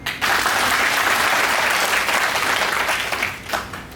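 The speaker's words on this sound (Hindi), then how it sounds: "एक ताली और अपने लिए बजा दो सब" A crowd at a BJP traders' conference claps steadily, with loud, dense applause that holds evenly and then swells briefly before fading near the end.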